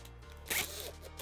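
A bag zipper being pulled along its track, a short close rasp rising in the middle of a quiet, steady room hum, with no talking.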